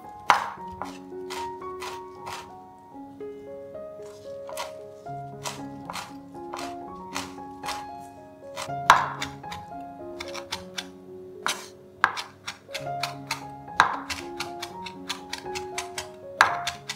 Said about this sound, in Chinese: 咖喱叶切碎放入碗中备用。